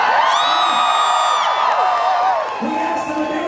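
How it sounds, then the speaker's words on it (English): A rain-soaked crowd at a 35th-anniversary drag show whoops and cheers, with high shouting voices and a steady roar of noise that holds at a loud level throughout. "You motherfuckers deserve a round of applause for being out in the rain."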